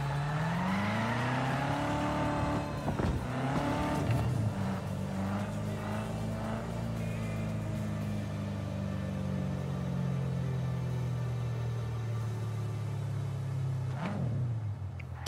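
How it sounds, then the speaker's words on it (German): A motorcycle engine from the video game Cyberpunk 2077 hums steadily while riding, with revs rising and falling in a few sweeps and a sharp surge near the end, no talk over it. "Also mit dem Motorrad."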